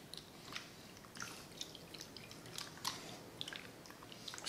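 Soft, wet squishing and squelching as silicone rubber is squeezed by hand under water to push out air, faint and close with irregular little squelches and drips, no voices.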